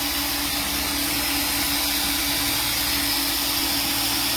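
A steady, loud rush of hissing air escaping from a loose, improperly seated PCV valve over a low engine hum, continuous and unchanging throughout.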